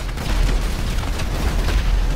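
A string of explosions in the video game GTA V, heard as a dense, continuous low booming rumble with no pauses and no talk.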